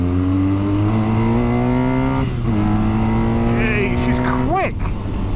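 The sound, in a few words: BMW K1100 motorcycle engine revving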